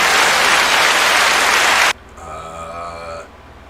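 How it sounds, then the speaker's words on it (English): Short burst of applause during a live podcast reaction stream for a UFC fight night, loud and dense for a couple of seconds, then cut off abruptly, leaving quieter tonal background sound. "Give you guys an applause real quick."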